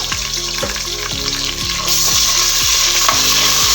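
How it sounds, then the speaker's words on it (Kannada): Ginger garlic paste frying with onion and green chili for kushka rice, a loud constant sizzle under repeated scraping strokes of a spoon stirring the pan. "ಶುಂಠಿ ಬೆಳ್ಳುಳ್ಳಿ ಪೇಸ್ಟ್ ಅನ್ನು ಹಾಕೊಂಡು ಹಸಿ ವಾಸನೆ ಹೋಗೋರಿಗೆ ಚಂದ ಫ್ರೈ ಮಾಡ್ಕೊಳ್ಳೋಣ"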